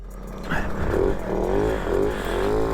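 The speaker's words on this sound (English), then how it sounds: "Let's go for a little spin." A 1990 Jawa 50 motorcycle on a short ride, its small engine revving up through rising and falling pitch sweeps, close and steady.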